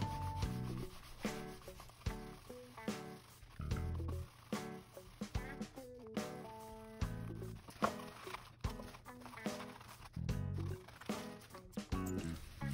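Polishing cloth rubbing Novus No. 3 scratch remover over the deeply gouged plastic shell of a Nintendo Wii, heard as repeated close scrubbing strokes in an uneven rhythm, moderately loud, with no talking.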